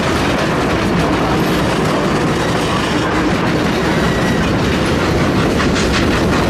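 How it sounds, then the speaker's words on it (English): A double-header train climbs a grade near Chama, filling the clip with a loud, unbroken rumble of laboring engines and clattering wheels, up close and with no talking. "this is the area where you're really going to be able to hear the engine work coming up the hill here"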